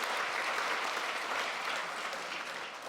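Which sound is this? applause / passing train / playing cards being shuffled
applause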